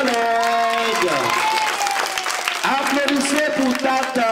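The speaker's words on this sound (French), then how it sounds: "Applaudissez pour les mamans du quartier Dialogue." A crowd at a Christmas gift-giving event for underprivileged children claps steadily and loudly while voices call and chant over the applause for the whole stretch.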